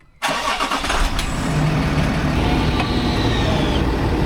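Land Rover LR4 engine starting after repair: a quick crank that catches abruptly and settles into a steady, close, loud idle rumble, with no voices.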